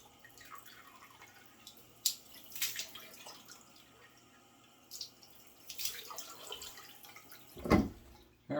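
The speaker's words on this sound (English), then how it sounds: "it's time to splash on a couple of splashes of cold water out of the sink" Cold tap water running into a bathroom sink and splashed onto a face by hand, quiet trickling and dripping broken by a few soft splashes, with a louder splash near the end.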